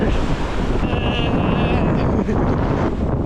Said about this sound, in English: The wind picked up and it's very cold.